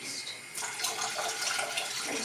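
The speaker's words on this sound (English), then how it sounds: "I'm going to add some water in there now, to be honest." Water running into a cooking pan on a home stove, a steady close splashing pour lasting throughout with faint background noise.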